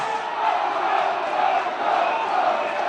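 A large rally crowd at a Donald Trump speech cheers and roars in a continuous, loud wash of voices, steady throughout with no single voice standing out.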